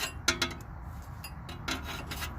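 Steel fork-type separator tool scraping and sliding into the outer tie rod end joint on a Toyota Highlander, giving a few short metallic rasps and scrapes close up, with no talking.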